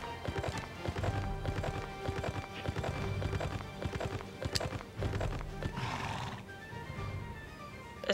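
Horse whinnies and neighs amid clip-clopping hooves and game sounds in the Horsez video game, with a sharp whinny standing out near the middle over a steady busy background.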